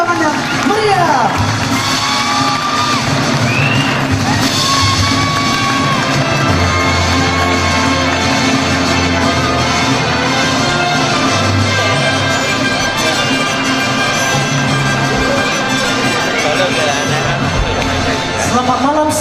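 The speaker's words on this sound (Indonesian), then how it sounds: "Mari kita beri tepuk tangannya meriah" An audience at an evening opening ceremony of a regional gathering in Riau Islands applauds and cheers to welcome the MCs, a loud, steady wash of clapping and whoops that lasts throughout, with crowd voices mixed in.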